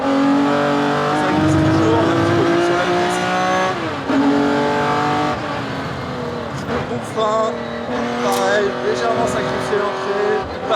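Classic racing car accelerating hard around the Mugello circuit, its engine loud and close with rising harmonic revs and gear changes, while someone talks over it throughout.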